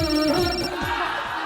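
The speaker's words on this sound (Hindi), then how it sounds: "अच्छा फोन है।" A telephone ringing with a repeating electronic warble, moderately loud and close, sounding alone without talk.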